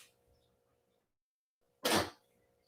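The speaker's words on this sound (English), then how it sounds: "Ooh, I think I have to sneeze." A single sharp sneeze bursts out close to the microphone after a quiet pause.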